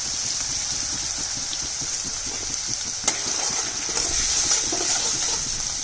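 Onion and garlic, fried until reddish, sizzle steadily in a pan as cumin, ginger, coriander and green chilli paste is added, giving a constant hiss with a brief clink partway through.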